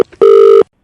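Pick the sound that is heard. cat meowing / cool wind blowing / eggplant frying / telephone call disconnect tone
telephone call disconnect tone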